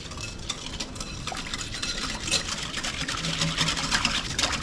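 Instant vanilla pudding mix is whisked with milk in a bowl, making soft, quiet, continuous stirring and scraping sounds close by, with no talk.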